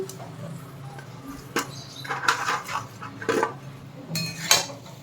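Fried vegetables with bitter gourd and eggplant being sautéed for shukto, with scattered scraping and clinks of a utensil against the pan in irregular bursts, fairly close and moderately quiet.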